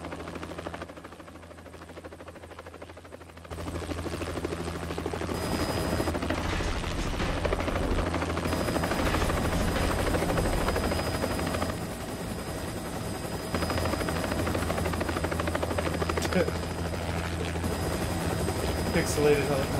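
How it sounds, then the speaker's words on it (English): A helicopter in the Prison Break video game on Xbox 360 gives a loud, steady rotor roar and engine drone that holds throughout, with game sounds around it. "Pixelated helicopter."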